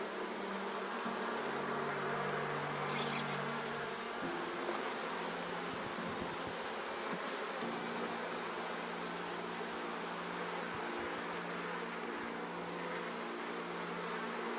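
Honey bees buzz around an open beehive during an inspection, a dense continuous drone with shifting pitch that stays close and steady throughout, with no talking.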